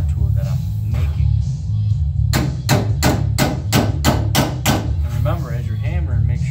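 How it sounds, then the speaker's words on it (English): A metal hammer strikes sheet metal on a custom Ford Shoebox car body, nine sharp, evenly spaced blows in a quick run over a steady low hum, with brief talk before and after. "Remember, as you're hammering, make sure you're looking down to get everything symmetrical."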